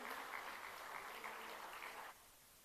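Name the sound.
audience applause at a conference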